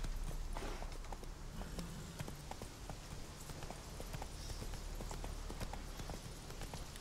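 Horse hooves clip-clop steadily in The Witcher 3, the footfalls faint and even against a constant low background wash of game ambience.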